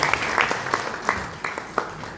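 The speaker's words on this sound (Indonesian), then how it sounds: "kita tepuk tangan Ibu Maya Rumandir." A small audience claps in welcome for a guest, with a few sharp, sparse claps standing out over a softer patter, moderately close and brief.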